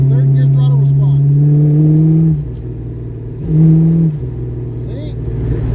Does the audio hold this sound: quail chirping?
no